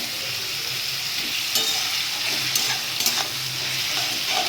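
Shrimp fry in a pan with coriander, cumin, dried chillies and ginger, giving a loud, continuous close sizzle with a few sharper crackles and stirring scrapes, no voices.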